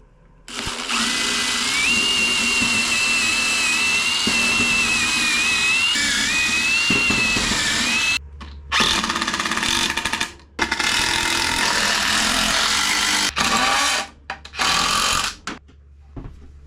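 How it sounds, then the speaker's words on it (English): A power drill pre-drilling holes while building a tiny cabin in Alaska whines steadily at high speed, its pitch wavering slightly, then stops and restarts in several shorter bursts near the end. "Got to pre-drill the holes."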